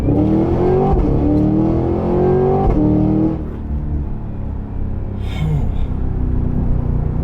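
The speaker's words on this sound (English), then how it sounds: "Of course, obviously you can hear the burbles in the engine, or the exhaust rather." A 2023 Cadillac Escalade-V with its supercharged LT4 V8 pulls hard, engine note climbing in rising steps through gear changes, then settling into a low exhaust burble, loud and close from inside the cabin.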